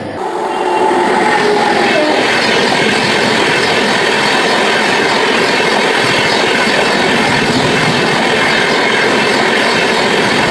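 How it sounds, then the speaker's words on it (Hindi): The Lichchavi Express passenger train running on rails in India, heard up close as a loud, steady rumble with wheel clatter and a faint high squeal that continues unbroken without a pause. "हमारी ट्रेन डिपार्ट हो चुकी है दिगवारा से।"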